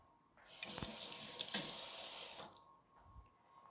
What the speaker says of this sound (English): So I'm just going to wet my hands a little bit.